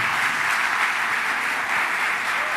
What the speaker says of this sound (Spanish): démosle un aplauso a Dios